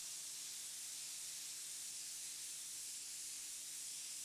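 A spray gun lays down the final coat of water-based paint, a steady, continuous hiss throughout with no pauses.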